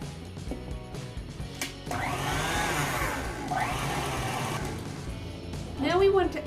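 A stand mixer with a whisk attachment beating cupcake batter hums steadily up close, its whirring rising and sweeping in pitch, with bowl scraping and brief talking over it.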